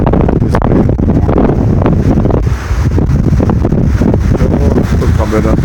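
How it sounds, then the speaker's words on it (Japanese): A strong north wind blows during a typhoon on the Sanriku coast, buffeting the microphone with loud, continuous gusty rumble, while a voice talks underneath. "ずーっとすごく北風が強くてね"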